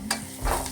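Food with cumin being stirred and sautéed in a pan, a brief close burst of sizzling with a quick utensil scrape and clink, no talking.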